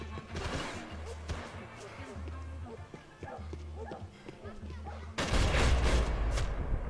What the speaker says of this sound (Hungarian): Hol lövöldöznek?